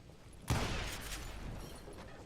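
A firecracker goes off in Call of Juarez: Gunslinger, a sharp sudden bang that then rumbles and crackles away under a steady background.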